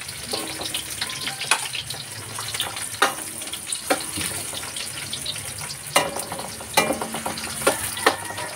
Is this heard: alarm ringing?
no